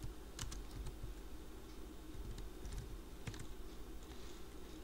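Keys on a computer keyboard are typed in short, irregular bursts of soft clicks, close and quiet over a low steady background hum, with no voices.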